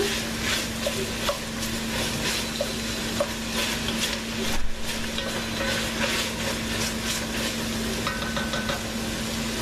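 Garlic, about a teaspoon, being stirred into a hot pan while cooking turkey penne, giving a steady low sizzle with soft scraping stir strokes throughout, close and moderately loud, with no talking.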